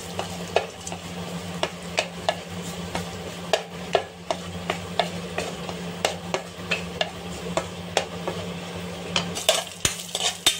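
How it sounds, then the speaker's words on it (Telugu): Cashew nuts frying in a little ghee in a hot pan for beetroot halva, with a spoon repeatedly scraping and clinking against the pan in a steady rhythm over a continuous soft sizzle. "దీంతో మనము జీడిపప్పు అన్నీ వేపుకోవాలి"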